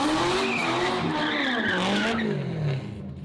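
A race car skids with a wavering tire squeal over a loud, sustained engine roar that dips as the driver lifts off the throttle, with no talking.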